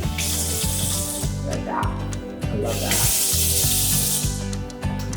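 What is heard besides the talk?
touch-activated kitchen faucet running water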